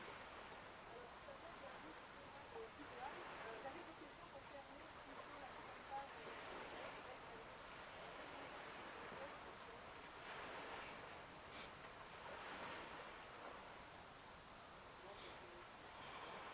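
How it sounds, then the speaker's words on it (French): Ocean surf washes steadily behind an outdoor press conference in Goma, a broad continuous roar with gentle swells rising and falling across the whole stretch, a voice occasionally present under the noise. "j'ai les vagues ici derrière, donc ça fait du bruit"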